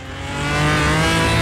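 A fast car accelerates hard, its engine note climbing steadily and growing louder over a moment and a half; the car pulls to the left and has a worn gearbox and clutch release bearing.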